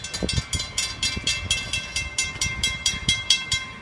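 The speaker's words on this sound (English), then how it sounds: "here comes the train" A train rolls along badly worn, beat-up tracks with a regular rhythmic clatter of wheels over rail joints, loud and close, repeating steadily.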